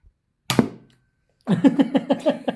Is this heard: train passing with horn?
no